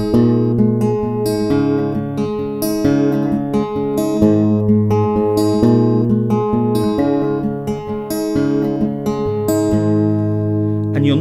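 Strummed acoustic guitar chords in a repeating pattern, full and close, with chord changes every couple of seconds and a final ringing chord.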